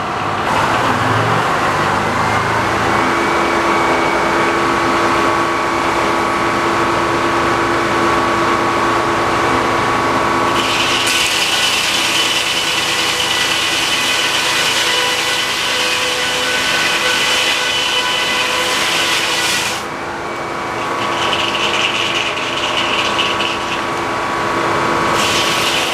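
A large Frick sawmill cuts wood with a steady, loud engine-driven drone and whine. A brighter, harsher blade sound rises during the middle of the cut, then eases and returns.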